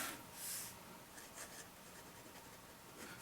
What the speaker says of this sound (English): Let's go ahead and put nib to paper on that. So draw the line.